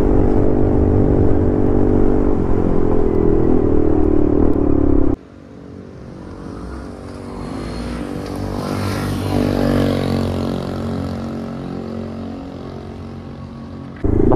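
A TVS Ntorq 125 scooter fitted with a valvetronic exhaust built around a 220 carburettor revs loudly and close, a deep droning engine tone that cuts abruptly to a quieter rising and falling rev before surging again at the end.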